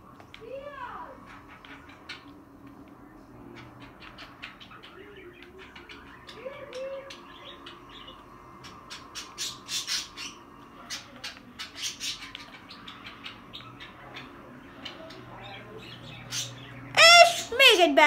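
Birds chirp and squawk in the street scene of GTA 4: scattered sharp calls and coos over a quiet background, growing busier and ending in a loud burst of squawks, while someone talks now and then.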